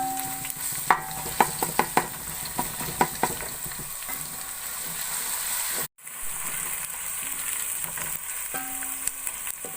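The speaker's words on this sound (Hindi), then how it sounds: "अब लहसुन को थोड़ी देर भून लेंगे।" Garlic paste sizzles in a pan over browned onions while a spoon stirs it, with a steady frying hiss broken by a brief cutout halfway and a series of scraping clicks.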